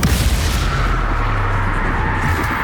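A Confringo fire spell bursts in the Hogwarts Legacy video game, a loud, dense booming blast with a heavy low rumble that stays roaring steadily for the whole moment, with no pauses.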